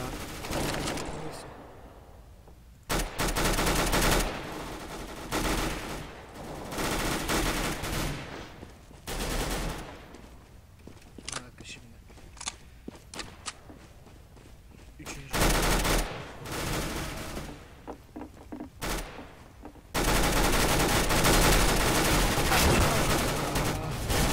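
Bursts of gunfire from the video game Counter-Strike: Global Offensive, loud sustained automatic volleys separated by quieter gaps and short sharp single shots, with a player talking in between.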